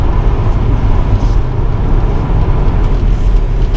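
A Volvo S60R AWD with a 340 bhp turbocharged engine pulling hard from inside the cabin, a dense steady engine drone with road roar throughout, the pitch shifting subtly between gears.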